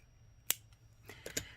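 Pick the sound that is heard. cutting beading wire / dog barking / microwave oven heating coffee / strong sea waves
cutting beading wire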